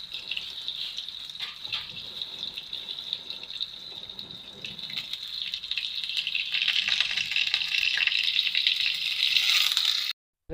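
Chard and garlic frying in butter give a steady, close sizzle and hiss that builds louder over about ten seconds, then cuts off abruptly; no voices.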